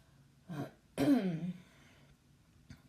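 A person clears their throat twice in quick succession, close and fairly loud, the second rasp longer, followed by a faint short rasp.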